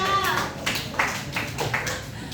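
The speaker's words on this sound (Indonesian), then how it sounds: "Tepuk tangan untuk kelompok 2." A class of students claps hands after a group's result is announced, a short burst of scattered clapping with voices mixed in.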